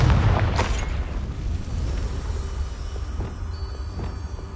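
A Confringo fire-blast spell in Hogwarts Legacy erupting in a loud booming explosion at the start, then a rumbling roar that slowly decays.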